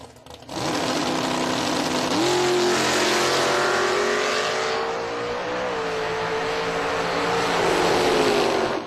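A 1971 Chevrolet Camaro on a drag strip launches and screams through its gears, the loud engine note climbing with clear shifts as it runs hard and steady to the finish.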